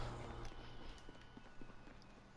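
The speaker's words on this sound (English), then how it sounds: "I hear footsteps right next to my building" Faint footsteps sound near a building in Call of Duty: Warzone, a series of soft irregular steps under a low, quiet background with no talk.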